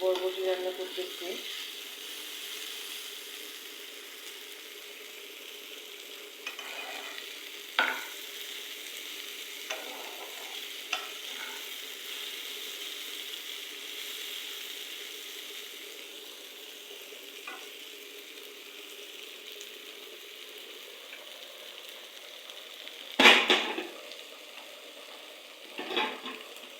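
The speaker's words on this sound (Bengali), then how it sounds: "আমি আলতো করে হচ্ছে নেড়ে চেড়ে দিচ্ছি, হালকা মিডিয়াম লো আঁচের মধ্যে রেখে ভাজতেছি" Chopped vegetables, including long beans, fry gently over medium-low heat with a soft, steady sizzle, occasional stirring scrapes, and one loud clatter near the end; a voice speaks quietly at times.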